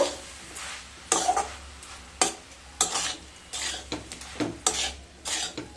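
Drumstick flowers with mustard oil and coriander leaves are stirred in a pan, giving repeated loud scraping strokes over a low sizzle, close and rhythmic with brief pauses between strokes.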